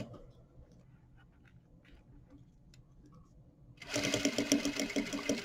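Sewing machine stitching a thick combination of fabrics for a fly front, starting after a quiet stretch with faint handling noises and running loud and steady with rapid rhythmic needle ticking through the final second and a half.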